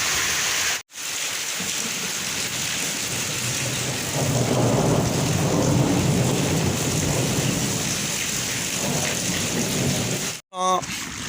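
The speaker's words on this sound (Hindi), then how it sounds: "कितनी तेज़ी नाल माशाल्लाह बारिश जारी है।" Heavy monsoon-season rain pours steadily with a deep, continuous rumble of thunder rolling underneath, loud and close throughout, broken by two brief gaps.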